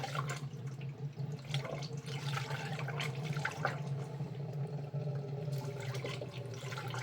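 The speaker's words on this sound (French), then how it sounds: "On entend les bulles d'air, hein. Le système va se purger tout seul." Air bubbles gurgle through the coolant of a 2013 Opel Zafira B as its cooling system bleeds itself after a thermostat change, a steady, faint watery burble that runs throughout with no voices.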